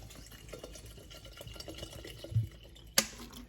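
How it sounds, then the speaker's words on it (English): Water pours from a bottle into a cup for steeping herbal tea, a soft, low gurgling trickle that ends in a brief splash and a sharp clink. "I'm just grabbing a bottle. Okay, so you pour it."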